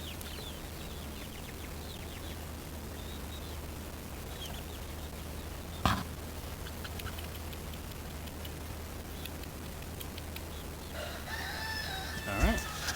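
Backyard flock of Cochins, Americanas and a lavender Orpington, with soft clucks and occasional calls over steady ambient hum outdoors, a louder brief squawk near the middle and more bird activity toward the end.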